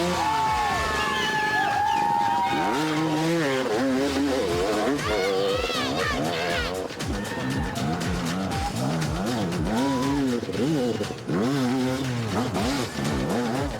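A motor revs and whines repeatedly on a hill climb, rising and falling in pitch, loud and close, with a voice talking over it.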